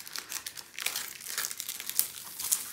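Glossy plastic protective cover on a budget diamond painting kit being folded back by hand, giving close, continuous soft crinkling and crackling with a few sharper crackles, and no talking.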